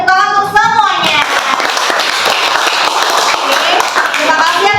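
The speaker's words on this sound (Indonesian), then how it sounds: "tepuk tangan untuk semuanya" Classroom applause as a group of students claps together for everyone, a dense steady patter of hands under a loud voice at the start, holding evenly for several seconds.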